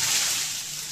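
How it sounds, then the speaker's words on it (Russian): Cold water pours over a person at a spa, a brief rushing splash that is loudest at the start and fades slightly within about a second. "я очень люблю обливание холодной водой"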